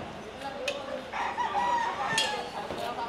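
Chickens and a rooster on a farm, with several crows and clucks rising over a busy background, fairly close, while people talk faintly nearby.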